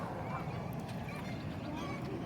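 Goose honking at a city park, calls heard moderately distant over steady low outdoor rumble and background noise, with faint voices around.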